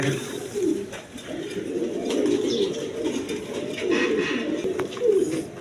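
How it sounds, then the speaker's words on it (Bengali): A pair of Indian Kagzi pigeons coo steadily at a bird market, their low throaty rolls repeating close by with little talk around them. "দর্শকবৃন্দ এইখানে এক পের কাগজি কবুতর আছে দেখেন ইন্ডিয়ান কাগজি কবুতর"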